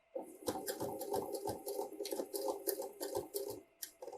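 A sewing machine fitted with a zipper foot runs a short stitching pass along a small section of invisible zipper on a vintage jumper, making a steady close mechanical whir with rapid rhythmic needle ticks and no talking.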